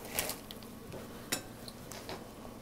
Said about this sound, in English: Just give them a stir.